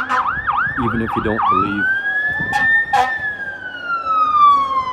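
Emergency vehicle sirens wail close by, first in quick yelping cycles and then in a long falling tone, while someone talks over them.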